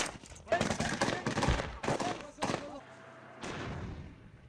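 Several bursts of gunfire ring out in rapid clusters during combat at an air base in Aleppo, loud and cracking with echo, separated by brief pauses and a low rumble of explosions.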